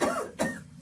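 A person coughs twice in quick succession, close and fairly loud, each a short harsh burst with no other sound around it.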